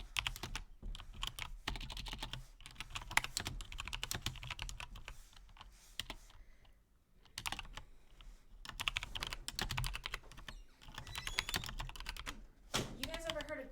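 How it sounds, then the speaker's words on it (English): Rapid typing on a computer keyboard rattles close up in steady bursts of clicky keystrokes with brief pauses, and a quiet voice joins near the end. "She can't speak while typing."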